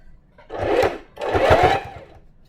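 Sewing machine stitching hoodie cuffs in two close, quick bursts of rapid mechanical whirring, each about half a second long, separated by a short pause.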